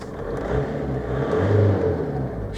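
A Volkswagen Golf with a PD130 diesel engine, just fitted with a new injector loom, revs up and down in two rising surges over a steady idle. The engine note is loud and close, and no one talks.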